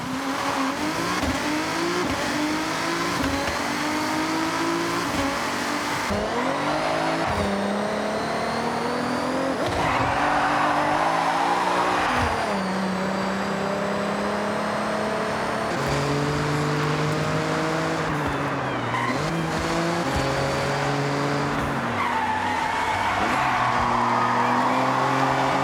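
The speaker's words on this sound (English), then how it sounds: "the cars feel like they sound just better and crispier overall" Racing car engines roar and rev continuously in the video game Forza Horizon 6, with rising and falling pitch as gears shift, plus occasional tire squeal throughout.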